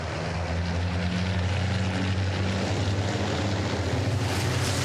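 Diesel racing trucks running on renewable HVO fuel pass on the Zolder track in 2022. A dense, continuous engine roar with a low drone holds steady and loud for several seconds, with no voices.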